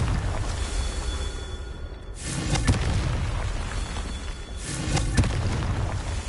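Spell explosions in the Hogwarts Legacy video game boom out in repeated heavy blasts, each a broad rumbling burst over a continuous low battle din, with about three distinct impacts spaced across the stretch.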